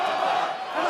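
A live MMA crowd roars in a sustained, loud swell of voices filling a short moment at a PFL event, with no single voice standing out.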